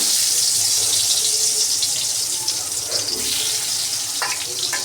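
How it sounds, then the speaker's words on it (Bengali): Eggplant pieces go into hot oil in a large wok and fry with a loud, continuous hiss and crackle, steady and close throughout. "এদিকে তো কড়াইতে তেল দিয়ে দিয়েছি, এখন বেগুনগুলোকে দিয়ে দেব"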